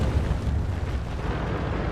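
A Lorraine tank gun firing in World of Tanks, a heavy low rumbling boom that stays dense and sustained across the short stretch, with no talking over it.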